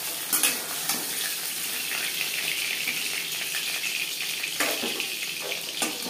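Pabda fish fried lightly in oil in a pan gives a steady, close hiss of sizzling with brief louder crackles and a few stirring or scraping bursts, no voices.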